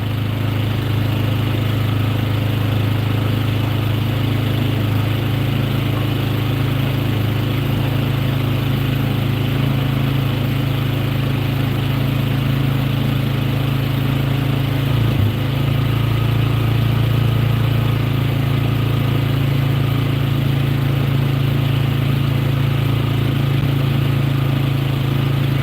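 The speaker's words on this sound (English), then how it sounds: "Turn the idle down." A 2012 Polaris engine idles steadily with a low, even rumble that holds constant close by, with one brief bump partway through and no talking.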